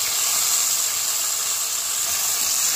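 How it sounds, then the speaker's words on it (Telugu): Ground green chili chutney hits hot oil in a pan and hisses steadily, a dense continuous sizzle close by with no breaks and no voices. "ఇంకా పచ్చడి కూడా వేసేసుకున్నాం ఆయిల్లో."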